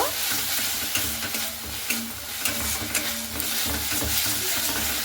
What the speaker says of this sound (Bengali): তো টমেটোটা দিয়ে খুব ভালো মতো করে মশলাটাকে কষিয়ে নেব